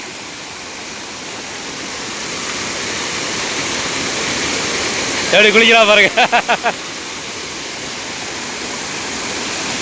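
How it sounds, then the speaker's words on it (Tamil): Steady broadband rush of heavily falling water pouring down Kodiveri Dam near Erode, Tamil Nadu, fills the whole clip, with a person speaking briefly over it midway. "சும்மா வேற லெவலில் தண்ணி கொட்டுது"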